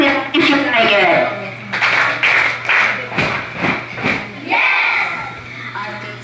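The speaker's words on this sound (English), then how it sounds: "give me a clap if you like it" A class of students clapping in a classroom, several bursts of applause with children's voices and talking mixed in over a low steady hum.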